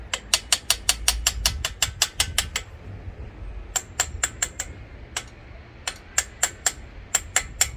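Ratchet wrench clicking in fast, even runs of about a dozen clicks with short pauses between, close and crisp, backing out the last bolt on a barn-find Kawasaki GPZ900R Ninja rear swing arm; no talk.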